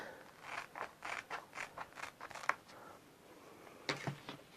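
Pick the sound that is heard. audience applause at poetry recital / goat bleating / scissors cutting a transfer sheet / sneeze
scissors cutting a transfer sheet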